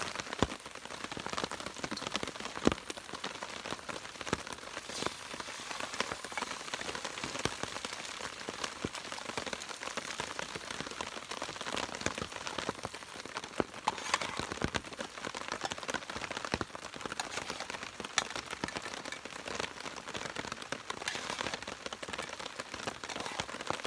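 Steady rain patters on a taut tent overhead while camping, a dense continuous hiss of drops with occasional louder taps, no voices.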